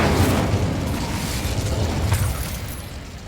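Incendio fire spell cast in Hogwarts Legacy, a loud whooshing burst of flame that starts strong and rumbles before slowly fading, with no voices over it.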